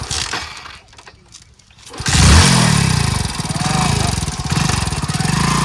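A motorcycle engine, flooded and slow to start, catches after a quieter stretch and then idles loudly and steadily, running close by for several seconds.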